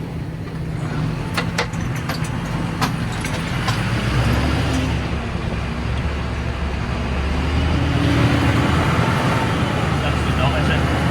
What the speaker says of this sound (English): Just all four wheels are spinning